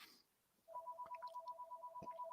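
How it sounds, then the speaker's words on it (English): A telephone rings with a steady electronic two-tone trill, repeating in rapid pulses at moderate loudness after a brief quiet start, with no talk over it. "And right when I said that, the phone rang"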